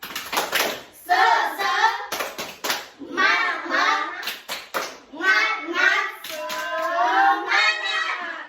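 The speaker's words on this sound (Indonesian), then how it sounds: "kita bertepuk semangat dulu supaya kalian tetap semangat dalam belajar" Children chant the tepuk semangat in an Islamic studies class, voices rising and falling in short sung phrases punctuated by sharp bursts of hand claps in rhythmic groups, close and loud.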